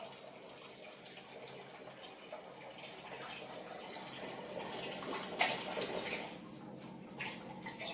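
Water runs steadily from a Kangen water ionizer, a soft continuous flowing and splashing hiss that swells slightly midway, with no talk over it.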